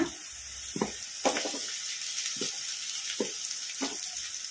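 Cabbage with onions frying in oil in a pan for egg fried rice, a soft steady sizzle broken by several short scraping stirs, fairly quiet and without voices.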